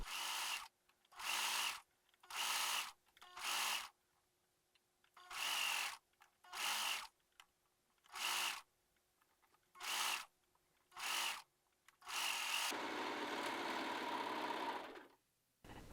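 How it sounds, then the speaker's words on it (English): A serger stitches hood seam allowances together along the neckline of a medieval hood in a run of short, close bursts separated by brief pauses, ending in one longer continuous run. "Serge the hood/mantle seam allowances together along the neckline and press them downward."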